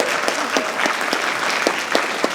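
A graduation audience claps steadily, many hands blending into a dense, continuous wash of applause with a few sharper individual claps standing out, filling the whole moment without speech.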